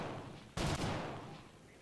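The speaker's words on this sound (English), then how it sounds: "We'll test out the cannon quick on here." An aircraft cannon fires in the War Thunder combat flight game, one short loud burst of rapid shots lasting about a quarter second, then fading into a quiet engine hum.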